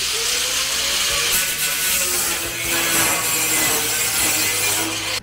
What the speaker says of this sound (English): So I'm gonna grind the little tip right there just a bit so I have clearance.